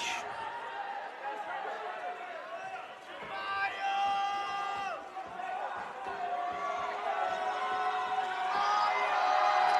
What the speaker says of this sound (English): Plenty of help from the crowd, as you can hear.